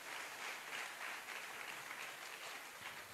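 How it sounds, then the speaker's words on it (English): Audience applause for a set of four presentations at a science innovation competition, a steady, moderately loud wash of clapping from many hands lasting throughout without talk. "Can we have a round of applause to all the 4 presentations,"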